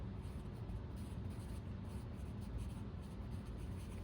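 Pen or marker writing out a probability solution, a soft continuous scratching and rubbing texture, steady and close, quiet and unbroken by speech.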